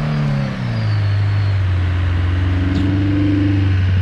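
An off-road car on an off-road outing pulls away with a loud, close, low engine drone that rises slightly in pitch and holds steady as it drives off.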